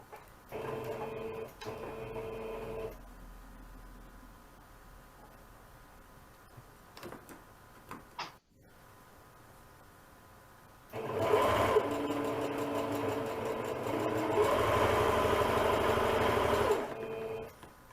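An electric sewing machine stitches along the edge of a fabric base piece in a sewing class, running in steady whirring bursts with pauses between them, with quiet handling noise in the gaps.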